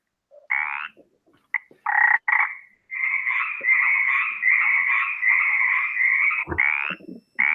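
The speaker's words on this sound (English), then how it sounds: "It's a really big cricket frog!" A cricket frog croaks in a played recording, with several short calls and then a long, steady buzzing trill, loud and close with brief gaps.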